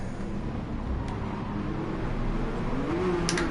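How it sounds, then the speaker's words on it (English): A Porsche racing car's engine drones in Gran Turismo 7 during an online race, holding a steady, fairly close note that rises in pitch toward the end, with no talk over it. "Love the sound of this Porsche, but perhaps not the way it brakes."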